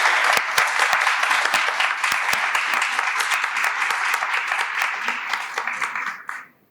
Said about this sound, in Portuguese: Aqui eu peço uma salva de palmas.